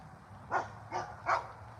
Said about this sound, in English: Look, dog's going crazy.